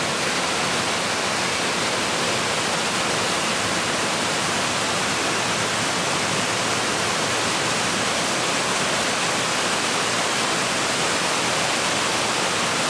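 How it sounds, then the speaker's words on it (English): A small waterfall on the Quechee River in the Vermont village of Quechee gives a steady, dense roar of rushing water, loud and unbroken throughout, with no voices. "the Queechee River runs through the village of Queechee, and you can see this beautiful little waterfall here"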